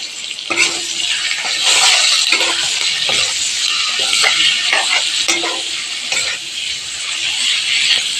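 Meat frying loudly in a hot pan, a steady close sizzle with intermittent stirring scrapes and light clinks of a utensil against the pan throughout.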